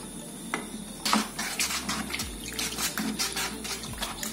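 A paint roller stirs thick paint inside a container, giving soft wet sloshing and scraping strokes in an uneven rhythm, fairly quiet and close, with no talking.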